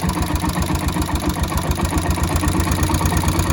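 Carbureted engine idling in cold weather, a loud, steady low throb with an even pulsing rhythm, close up and alone without any voices.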